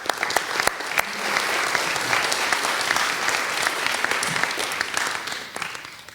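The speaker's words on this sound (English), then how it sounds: "Let's say a big thank you with an applause" Conference audience at an OSCE security event gives the panelists sustained applause, a loud, dense patter of many hands with a few sharp nearby claps, fading slightly toward the end.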